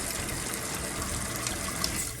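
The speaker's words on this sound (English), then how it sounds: "wash my hands again." Tap water running steadily while hands are washed at a kitchen sink during holiday turkey and gravy prep, a continuous close rushing hiss with no speech.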